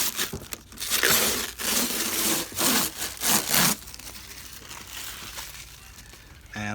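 Protective plastic film is peeled and rubbed off a 2007–13 Silverado headlight housing, giving a series of close, scratchy crinkling strips for several seconds before it quiets down.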